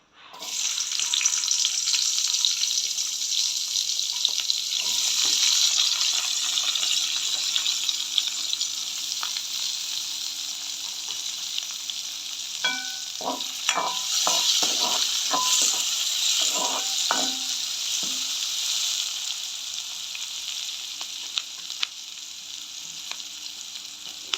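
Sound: onion and garlic frying in hot oil

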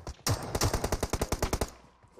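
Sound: gunfire in the video game PUBG Mobile

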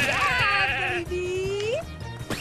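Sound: sheep bleating in video game The Good Life

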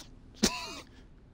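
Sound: character coughing in video game Resident Evil 2 Remake

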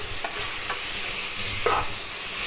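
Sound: cabbage sautéing in oil in a pan

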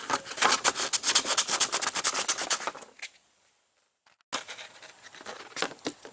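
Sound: sanding a car interior plastic panel

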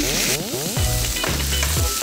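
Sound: meat frying in beef tallow

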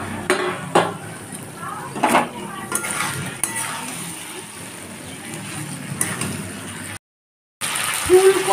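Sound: sautéing fried cauliflower and potatoes in spice paste

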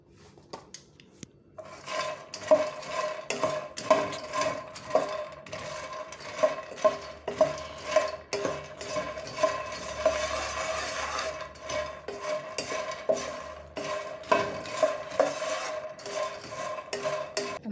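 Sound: roasting lotus seeds in a pan

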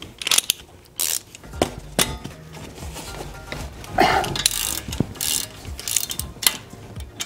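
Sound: ratchet with 12-point socket loosening Jeep hub retaining bolts

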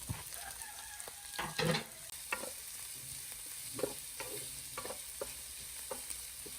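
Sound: sautéing ginger, garlic, onion and green chilies in oil

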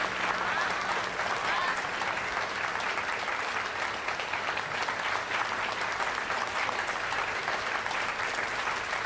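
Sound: applause celebrating launch of new furniture brand Infinity

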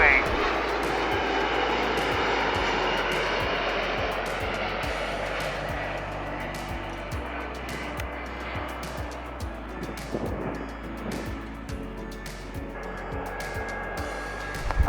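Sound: airplane approaching runway 15L at Seoul Incheon airport

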